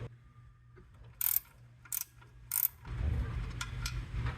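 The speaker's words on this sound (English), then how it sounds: "Next, we'll take off the two bolts holding on the alternator." A ratchet clicks in three short, sharp bursts while loosening a 13mm alternator bolt on a 1994 Chevy K1500, followed by a low mechanical rumble.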